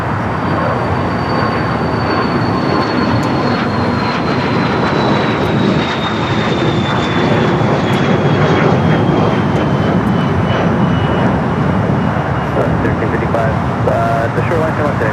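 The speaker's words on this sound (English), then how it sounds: "We got that flight heading to Tokyo Haneda, the American Dreamliner." An American Airlines Boeing Dreamliner bound for Tokyo Haneda takes off at LAX, its jet engines a loud, unbroken roar with a high whine slowly falling in pitch, while voices talk over it.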